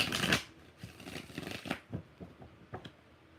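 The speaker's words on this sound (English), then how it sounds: "One more shuffle." A deck of tarot cards is shuffled by hand, with a burst of riffling at the start followed by softer, irregular card shuffles and taps, close and fairly quiet.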